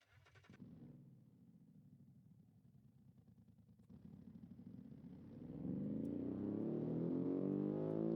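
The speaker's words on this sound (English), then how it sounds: "like a tractor or something, some kind of janky diesel engine" A rough, rattling diesel engine in a video game idles unevenly, then revs up and grows louder and steadier toward the end.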